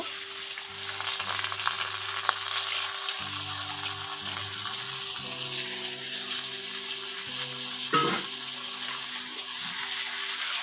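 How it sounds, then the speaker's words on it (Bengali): Washed atap rice fries in ghee with a constant sizzle and a faint steady hum beneath it, and a single clink sounds near the end. "এবারে আমি ধুয়ে রাখা চাল দিয়ে দেব।"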